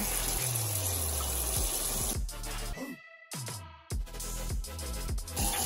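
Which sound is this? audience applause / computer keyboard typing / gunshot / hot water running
hot water running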